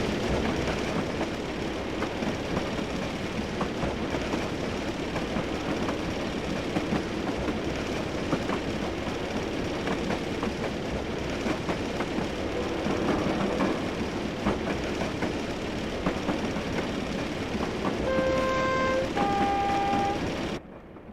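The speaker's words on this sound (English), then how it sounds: "Loving all the rattling sounds and stuff this thing makes." Derby Lightweight DMU diesel railcar in Train Simulator Classic on the Stour Valley line, a steady loud rolling rattle and rumble throughout, with a brief two-tone horn near the end.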